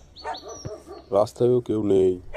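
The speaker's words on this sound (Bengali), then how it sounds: "কুকুরগুলো এরকম ডাকছে কেন?" Dogs bark and whimper at night on an empty road in a few short, loud bursts, while someone speaks over them.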